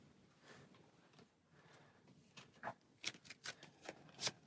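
Playing cards for the Marvel Champions card game are shuffled close by, starting as a soft riffle and ending in sharper snapping bursts over a few seconds, with no one speaking.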